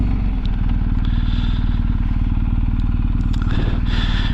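A BMW R1250 GSA motorcycle rides along a road, its engine giving a steady, loud, low rumble with a little rattle and scrape mixed in and no break in the sound.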